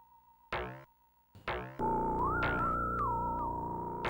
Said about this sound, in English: Oh, that's a 1-up! There are 1-ups scattered through the levels!